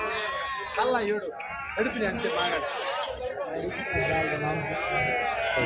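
Several sheep bleat repeatedly amid a busy crowd at the Gudur sheep market, with people chattering and talking throughout.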